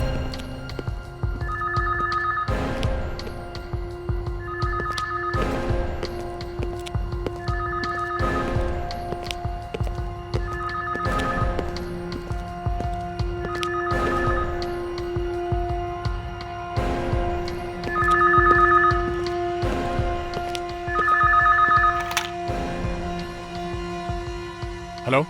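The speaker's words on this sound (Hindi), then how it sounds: "फोन कहाँ बज रहा है?" A telephone rings upstairs in a house, repeating in steady double-tone bursts every few seconds, moderately loud and slightly distant, with faint footsteps and voices in between.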